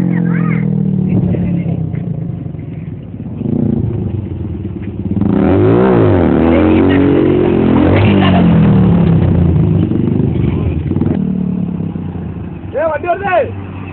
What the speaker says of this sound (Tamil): வண்டி வருது